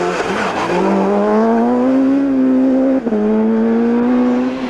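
Super 1600 rally car on a short tricky stage at the Jim Clark Rally near Duns, its engine howling loud and close as it revs up and holds, with a brief dip on a gear change.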